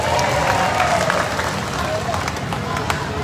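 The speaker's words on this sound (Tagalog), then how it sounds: "mukhang malakas yung palakpak nyo" An audience claps loudly at an Independence Day anniversary event, steady crowd applause with scattered louder claps, mixed with murmuring voices and background chatter throughout.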